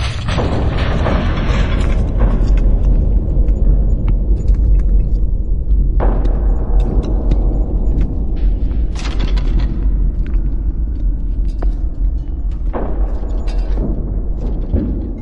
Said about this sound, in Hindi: विस्फोट की एक भयानक आवाज सुनाई पड़ी